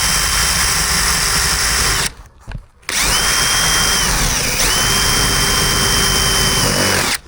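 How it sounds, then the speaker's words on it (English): Power drill drilling out a loose, spinning screw during maintenance work, loud high-pitched motor whine in two long bursts separated by a brief stop and rev, close up with no speech. "Drill it out of here too."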